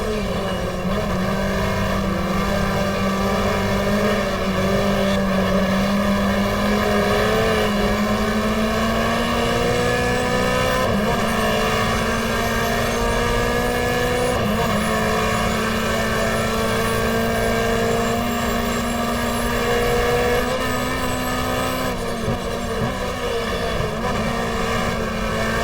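A Peugeot race car engine in the GTR2 racing game, a loud, sustained drone with steady pitch and only slight shifts throughout.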